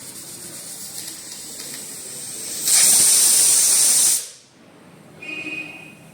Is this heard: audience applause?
no